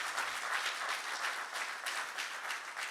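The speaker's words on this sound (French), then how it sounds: "vous pouvez l'applaudir" A church congregation at a French-language Sunday service claps steadily for their pastor, a sustained burst of many hands applauding together in a large room.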